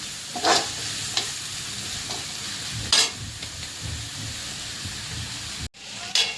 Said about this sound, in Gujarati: થોડીક જ વાર આને સાતળવાનું.